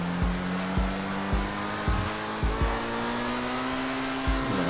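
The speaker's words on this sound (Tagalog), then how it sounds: "Nagalit yung makina." A luxury car with all-wheel drive in GTA 5 revs its engine loudly, holding a steady droning tone broken by a series of sharp, thumping bursts, with no talk.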